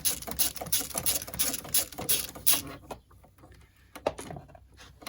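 A ratcheting wrench cracks loose the two fuel line fittings on a VW T4 Transporter, with fast rough clicking and metallic rasping up close, then a brief pause and a few sharper clicks.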